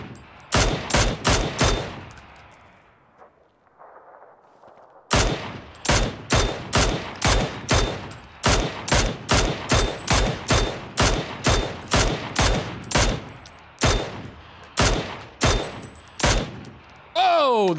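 Gunfire from a UMP submachine gun in the video game PUBG: loud, rapid bursts of sharp shots, a short pause, then long steady volleys that continue almost to the end.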